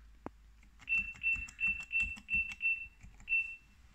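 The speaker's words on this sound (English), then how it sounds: "So if I type in my PIN on the keyboard." Keypad beeps from a Raspberry Pi alarm keypad as a PIN is typed: one sharp click, then seven short, evenly spaced electronic tones with a pause before the last, loud and close with no talk.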